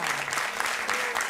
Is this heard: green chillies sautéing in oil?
no